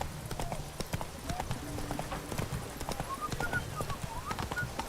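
A horse's hooves beat in quick rhythm as it gallops in The Witcher 3 video game, fairly close and continuous, with voices talking over the hoofbeats.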